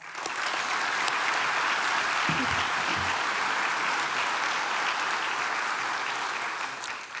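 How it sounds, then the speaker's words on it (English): At Brownsville's 2024 State of the City address, a large audience gives a round of applause for local students: a sustained, even roar of many clapping hands, loud and full, holding steady before thinning slightly at the close. "Let's give the students a round of applause"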